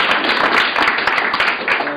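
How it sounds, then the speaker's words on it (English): Audience applause for Martin, a camera helper, at a presentation event: a brief, dense burst of clapping from a roomful of people, loud and close, lasting about two seconds. "a round of applause for Martin"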